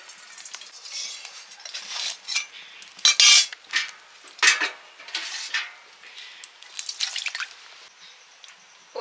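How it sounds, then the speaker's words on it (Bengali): Water is drained off boiled elephant foot yam and potatoes in intermittent splashes and drips, with clinks of a metal pot and lid between short pours. "জলটা ফেলে দেব"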